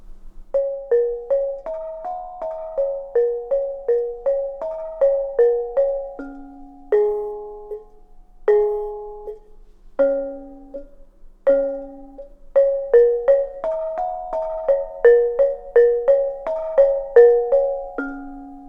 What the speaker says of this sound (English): So the sound of the bonang might be something like this.